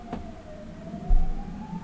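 An outdoor Hungarian ambulance siren holds a sustained rising wail at moderate distance, with a brief low thump midway and traffic rumble underneath; nobody speaks.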